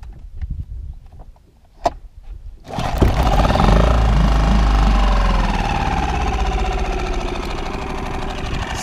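A few faint clicks and a sharp knock, then a small warm boat motor on the Vistula sputters to life and runs loudly and steadily, a rough continuous rumbling drone.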